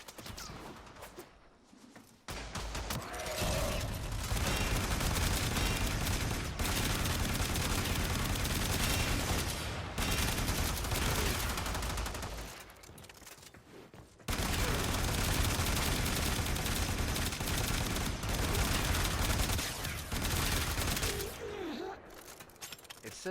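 Rapid, sustained Boltor Prime rifle fire in the Warframe video game rattles in long, dense bursts separated by short pauses, loud and close throughout.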